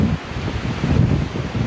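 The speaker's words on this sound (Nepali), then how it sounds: "हावा कति चलेको" Strong wind gusts across a rocky hilltop in Sri Lanka, a steady low roaring rush that swells and dips for under two seconds, with buffeting on the microphone and no voices.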